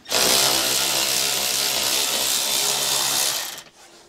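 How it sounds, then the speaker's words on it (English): A ratchet with an 8mm socket spins out panel bolts near the battery of a BMW during a hidden trailer hitch install. One loud, close, continuous buzzing whir lasts about three and a half seconds, then cuts off abruptly. "So an 8mm socket should be able to take these out."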